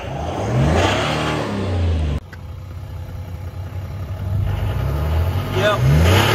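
A Toyota LC300 with a 3.5-inch stainless steel DPF-back exhaust revs up at close range, the engine note swelling and dropping through several throttle blips after a brief idle, with people talking over it.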